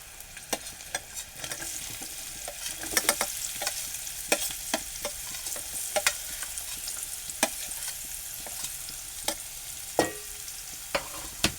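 Onion sautéing in a pan with garlic, a steady close sizzle broken by frequent sharp clicks and scrapes of stirring throughout.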